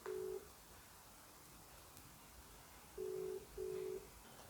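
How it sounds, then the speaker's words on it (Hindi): A phone call is placed and the line rings out as a ringback tone: one short beep at the start, then after a pause two more matching beeps close together, heard alone with no talk. "पापा को फ़ोन करती हूँ बस।"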